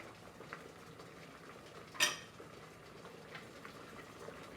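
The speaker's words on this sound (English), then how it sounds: "Now the water is boiling" A steady low bubbling and hiss of a pot of water boiling for pasta, with a sharp metallic clink of a utensil midway.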